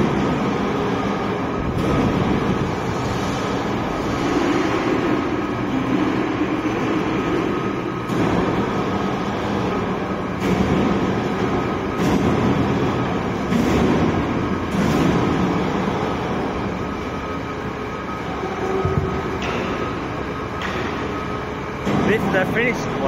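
A randomly selected, still-unpainted VHS electric motor runs on a test stand at a factory in China, giving a steady hum over continuous broadband workshop noise with people talking throughout.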